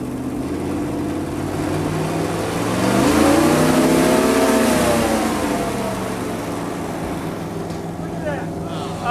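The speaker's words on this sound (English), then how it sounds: "You're going to rev it up now." A 460 hp Dodge Viper engine running with its oil drained revs up into a loud, rising growl that peaks and then eases back to a rough idle.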